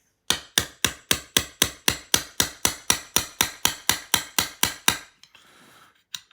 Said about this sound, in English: So I'm going to get the forward assist button in place. And I'm going to tap this in.